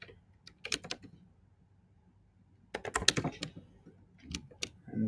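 Code is typed on a computer keyboard in two short flurries of close, sharp key clicks separated by a quiet pause.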